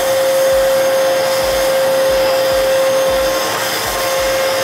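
An Arnica Vira washing vacuum cleaner with a carpet-floor nozzle runs on a carpet. It gives a loud, steady motor whine with a strong tonal hum and rhythmic low whooshes as the nozzle is pushed back and forth.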